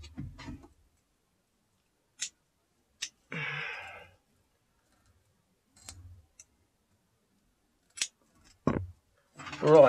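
Scissors snip through a power cord wire in a few sharp, isolated clicks spread across quiet gaps, with scattered brief handling noises and some talk.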